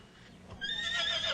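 Wild Mustang horse neighing in the American West: a single shrill, quavering whinny rising out of quiet background, fairly distant and moderate in level.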